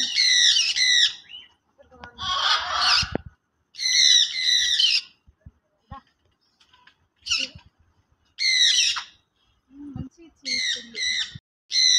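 Birds squawking loudly in a park, harsh repeated bursts of calls, close and very loud, separated by short quiet gaps.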